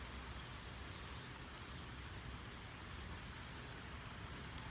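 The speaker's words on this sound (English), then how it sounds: "you ever have those early summer rains where it's just huge raindrops?" Heavy early summer rain with large raindrops falls during an approaching thunderstorm, a steady dense patter heard from under shelter at moderate level with no voices.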